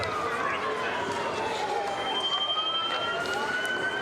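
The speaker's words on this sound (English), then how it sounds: "I hear sirens." Sirens wail continuously at a parade, a steady rising and falling tone heard from a middle distance through the whole stretch over a constant crowd-like background.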